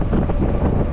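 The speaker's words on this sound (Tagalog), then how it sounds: "napakalakas ng hangin ngayon" Strong wind buffets the microphone in a loud, rumbling roar, briefly and close up.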